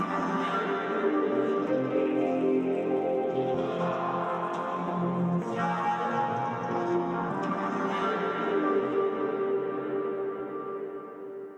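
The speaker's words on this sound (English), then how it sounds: "So that creates a pretty interesting sounding kind of chord progression" A sustained synthesizer chord pad made with Ableton Resonator, with rich, layered tones, shifts smoothly through a slow progression of chords, steady and mellow without any talking.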